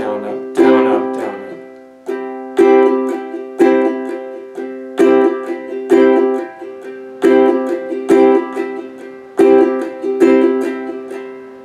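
Ukulele strummed in a steady down-down-up pattern with certain strums emphasized, each chord ringing bright and close, with regular accented strokes recurring about once a second.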